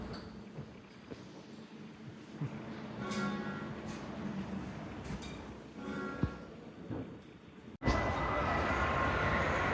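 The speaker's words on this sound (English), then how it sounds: "This is the Chongqing high-speed railway station, and it is absolutely massive." Broad, steady ambience inside the massive Chongqing high-speed railway station in China, with a low rail rumble and scattered bright clatters. A sudden louder, denser wash of noise takes over near the end.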